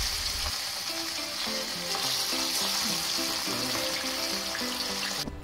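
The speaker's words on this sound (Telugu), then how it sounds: "బాండీలో 5 టీ స్పూన్స్ ఆయిల్ వేసుకొని ముందుగా నానబెట్టిన చేప ముక్కల్ని విడివిడిగా వేసుకోవాలి" Marinated fish pieces drop one by one into five teaspoons of hot oil in a kadai for Andhra-style fish fry, giving a loud, steady sizzle that runs unbroken throughout with soft music in the background.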